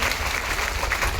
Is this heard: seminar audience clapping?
yes